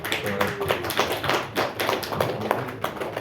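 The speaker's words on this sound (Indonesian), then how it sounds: "Tepuk tangan dong." A short burst of audience applause at a talk, sharp scattered claps at fairly close range, with some voices mixed in underneath.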